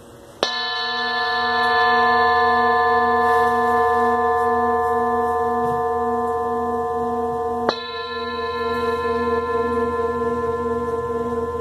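A 9.5-inch gold Sri Yantra singing bowl is struck twice, each strike leaving a long, bright, layered ring that sustains and slowly fades, with a faint buzzing rattle and a low rumble in the background.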